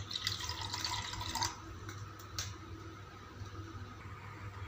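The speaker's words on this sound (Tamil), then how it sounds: "கால் டம்ளர் தண்ணி ஊற்றிக்கலாங்க." About a quarter tumbler of water poured into a pan in a home kitchen while making lemon rice, a short close splash over steady background hum, with no one speaking.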